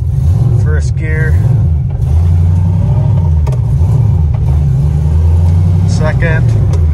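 An LS-swapped Nissan 240SX S13 pulls hard in first gear, its V8 rumbling loud and steady, with a faint surge, while a person talks over the engine.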